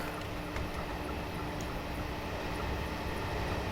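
A London Underground JT S8 stock train rumbles steadily through a tunnel in Train Simulator 2019, giving a continuous low, even drone with no talking.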